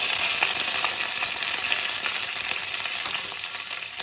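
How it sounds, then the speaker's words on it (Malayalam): Curry leaves and dried red chillies frying in coconut oil for an ivy gourd stir-fry, a loud, steady, close hiss of sizzling oil with small crackles throughout, no voices. "അതിനുശേഷം ശകലം കരിയാപ്പിലയും വറ്റലമുളകും ഇട്ട് കൊടുക്കണം."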